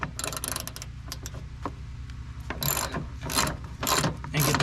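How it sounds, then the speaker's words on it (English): Ratchet wrench taking out three small bolts on a John Deere mower deck cover: fast, close clicking pawl runs in repeated bursts, some louder than others, with no talk. "It's just got three little bolts. So we're going to take those out so we can get that cover off"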